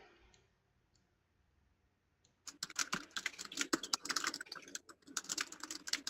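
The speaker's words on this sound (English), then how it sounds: "Someone might be typing a question because I hear some keys rattling there." Computer keyboard typing during an online chat, a quiet stretch with faint room tone followed by rapid, uneven clicking and rattling of keys, close and fairly crisp, with no speech.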